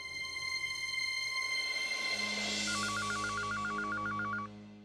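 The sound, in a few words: telephone being dialed to call mother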